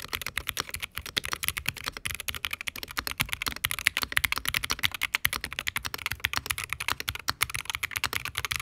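Keys clatter on a Wooting 60HE+ keyboard in a frosted polycarbonate Redux case, a dense, fast, continuous stream of sharp close clicks with no voice over it.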